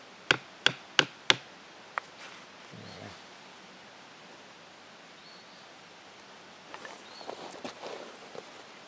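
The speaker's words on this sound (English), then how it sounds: "sometimes a hammer helps if you got some thick leather." Four sharp hammer strikes on a tool punching through thick leather in quick succession, then a lone tap, followed by soft rustling and faint handling noises against a steady hiss.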